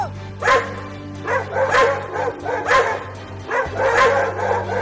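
Cartoon dogs bark in a rapid, repeated series of yapping woofs, loud and close, over a steady hum.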